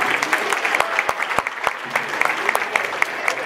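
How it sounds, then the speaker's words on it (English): Meeting participants at a student affairs and enrollment management all-staff meeting give a short round of applause, scattered individual claps standing out sharply over a brisk, fairly close patter. "give yourself a round of applause"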